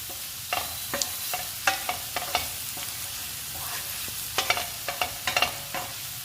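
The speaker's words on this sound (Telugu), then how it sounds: "ధనియాల పొడి బంగాళదుంప అల్లం పేస్టు ధనియాల పొడి అన్నీ ఫ్రై చేసుకోవాలండి కలిపి" Potatoes fry with ginger paste and coriander powder in a pan, a steady sizzle under repeated sharp scrapes and clinks of a spoon stirring, fairly close.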